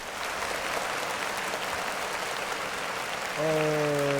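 Steady applause runs under the clip, a continuous crowd of clapping hands at moderate level, with a brief tonal musical sound entering near the end.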